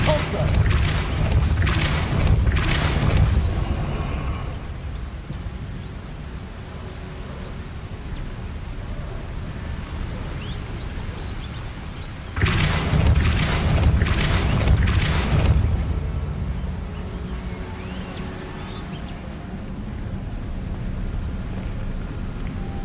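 Depulso spell effect in Hogwarts Legacy, a deep booming blast with a rushing, whooshing body, bursting at the start and again around twelve seconds over a steady low ambient rumble.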